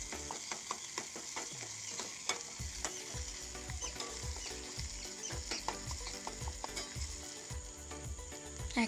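Onion and chopped tomato fry with mustard paste in a pan, a spatula scraping and clattering in quick repeated strokes over a steady low sizzle.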